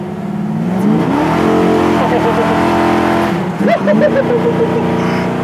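A 1969 Camaro convertible with a four-speed transmission revs hard and climbs through the gears, its loud engine rising in pitch, dropping at a shift and rising again, with people speaking inside.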